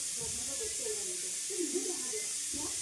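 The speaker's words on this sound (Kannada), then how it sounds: "ವಿಸಿಲ್ ಬರ್ತಾ ಇದೆ" A steam whistle lets out a steady, continuous hiss, with voices talking over it.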